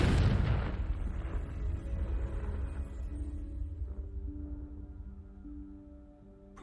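Confringo spell explosion in Hogwarts Legacy, a loud low boom at the start that rumbles and slowly decays with game tones ringing underneath.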